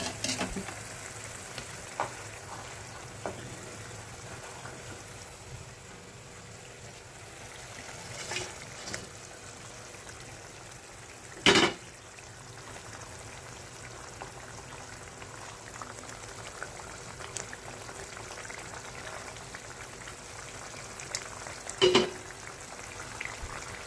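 Paneer kalia gravy cooks under a lid in a kadai with a faint, steady bubbling simmer, broken by a couple of sharp clinks.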